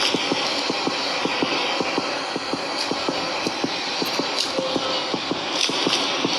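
In the Granny horror video game's train escape, the train rolls along with a steady rhythmic clatter of wheels over the rails beneath a constant mechanical hum, continuous and even throughout.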